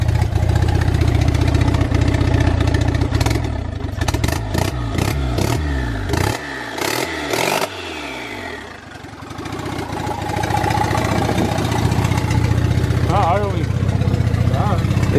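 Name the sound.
Honda Integra with turbo B20V engine idling and revving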